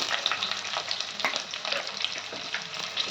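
Onions and green chillies fry in a pan for a biryani made with raw bananas, giving a steady close crackling sizzle with scattered sharp pops throughout and no talking.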